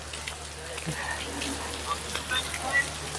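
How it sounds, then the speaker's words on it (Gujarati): Rain falls steadily near a Khodiyar temple in Bhavnagar, a soft continuous patter on surfaces, fairly faint, with people murmuring in the background. "હા વરસાદ ચાલુ થઈ ગયો છે"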